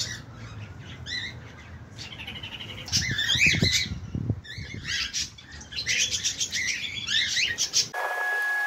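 Birds chirp and squawk in a park aviary at Gloucester Park, with overlapping tweets and calls scattered across the whole stretch, some close and loud, over a low background rumble.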